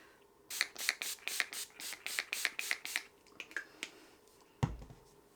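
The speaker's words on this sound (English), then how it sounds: "set everything with this Urban Decay All Nighter setting spray" A rapid series of about a dozen short, hissing bursts of Urban Decay All Nighter makeup setting spray in a steady rhythm, close by, followed by a few scattered pumps and a soft thump.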